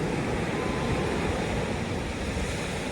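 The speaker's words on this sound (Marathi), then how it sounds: "मस्त लाटा वगैरे आले बघा" Sea waves wash onto the shore at Arnala beach, a steady broadband roar of surf with wind, continuous and fairly loud throughout, no voices.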